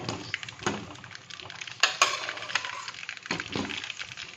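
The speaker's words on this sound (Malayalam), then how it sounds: "ഇനി നമുക്കിതിനെ ഇളക്കി കൊടുക്കാം" Whole lemons stirred in oil for lemon pickle, with close clinks and scrapes of a utensil against the pan and a faint sizzle underneath.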